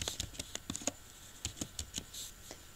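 Typing on a computer keyboard while entering a formula in Excel, a quiet, close series of irregular key clicks in short bursts.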